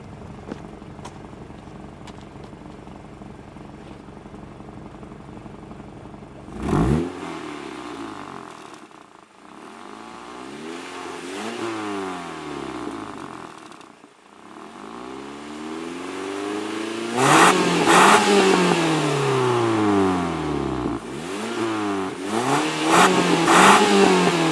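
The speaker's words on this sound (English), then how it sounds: "we're going to do a little rev for you guys" A 2005 Mitsubishi Eclipse engine revs hard several times from near the exhaust, each rev rising sharply in pitch and then falling back to a rumbling idle.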